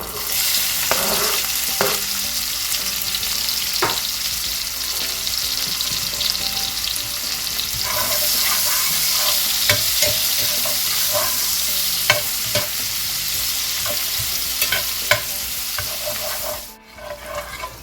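Chopped onions sizzle steadily in a pan of rendered bacon fat, a close, continuous crackling frying broken by scattered clicks of stirring, briefly dropping out near the end.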